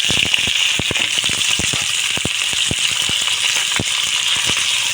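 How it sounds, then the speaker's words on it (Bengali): A bay leaf and sliced onion dropped into hot oil, sizzling loudly and steadily up close, with frequent sharp pops and crackles spread irregularly throughout and no talking. "তো ওই তেলের মধ্যে আমি দিয়ে দেবো একটা তেজপাতা, কোচানো পেঁয়াজ।"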